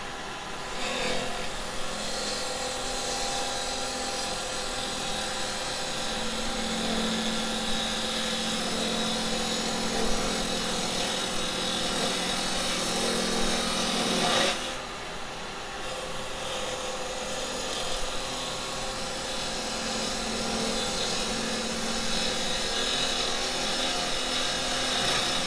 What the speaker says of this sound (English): It's pretty much all going to be done with a roughing gouge